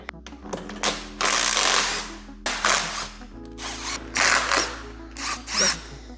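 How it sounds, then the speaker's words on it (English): A power tool zips loose the perimeter bolts on a roughly 50-year-old differential during an ERA Cobra diff upgrade, in several loud whirring bursts separated by short pauses, with a background hum throughout. "got all the perimeter bolts off except for the top one, so it's loose"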